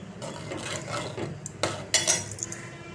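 A spoon stirs milk in a metal pot on the stove while kalakand sweet is being made, giving repeated close scraping and clinking strokes against the pot, with a few sharper metallic taps.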